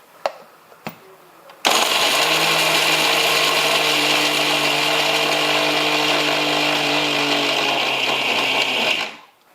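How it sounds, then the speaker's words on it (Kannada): An electric mixer grinder grinds fresh coconut, its loud motor whine starting abruptly after a few soft knocks and running steadily for several seconds before cutting off. "ಒಂದು ತೆಂಗಿನಕಾಯಿ ಬಟ್ಲ ತೊಗೊಂಡಿನಿ, ಅದು ಮಿಕ್ಸಿಗೆ ಹಾಕ್ಕೊಂಡು ರುಬ್ಕೊಂಬರ್ತೀನಿ ನೋಡ್ರಿ"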